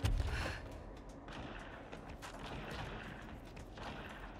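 Gunfire in the video game Control, a dense, continuous clatter of shots and impacts that stays loud throughout, with a heavy low-end boom near the start.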